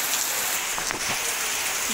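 Heavy rain falling in a steady, dense hiss, loud and continuous throughout with no pauses or talk.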